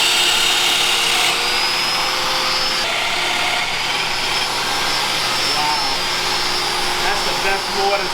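A power tool cuts a mortise in a wooden cabinet shelf, giving a loud, continuous high-pitched whine and roar close by that holds steady from start to end.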